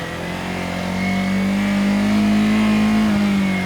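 A motorcycle engine held in first gear during a slalom on a training course, a steady, loud drone that rises slightly in pitch as the bike accelerates, with no voices.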